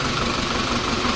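A tractor engine idles nearby in a steady, loud, low rumble with no change in pace over the brief moment.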